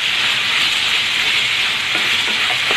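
Bitter gourd sautés in a pan with sugar and salt, giving a loud, continuous hissing sizzle with a few soft stirring taps toward the end.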